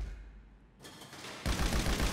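An MG light machine gun fires at a shooting range in GTA V, first faint and distant, then a loud close burst of rapid continuous rounds in the final second.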